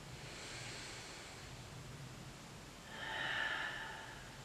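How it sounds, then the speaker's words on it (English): Deep yogic breathing during a hips yoga session, a soft airy exhale or inhale swelling mid-clip over a steady hiss, near and moderately quiet with no talking. "Inhaling deeply and exhaling completely. Just 3 breaths."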